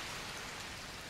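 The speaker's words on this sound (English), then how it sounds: "Is it just raining forever now?" Steady rain in the video game Takume The Dreaming Daughter, a dense, even hiss of falling drops spread across the whole range, holding constant and fairly loud with no voices or thunder.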